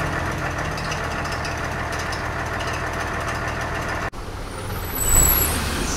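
Garbage truck driving around town, a steady low engine drone with a brief drop and a hiss like an air brake near the end.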